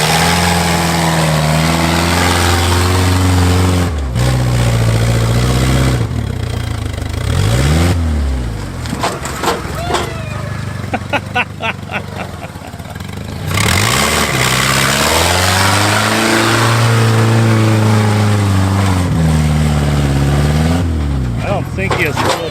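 An 80-year-old abandoned Jeep engine that floods badly cranks, catches and revs repeatedly. Loud, close rising and falling surges break briefly into rougher sputtering, then the engine climbs again.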